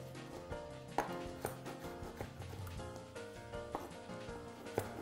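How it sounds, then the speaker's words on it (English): Serrated knife sawing through tomatoes on a kitchen cutting board, with a few sharp cutting strikes spread over about five seconds beneath steady background music. "It's way easier to cut tomatoes with a serrated knife."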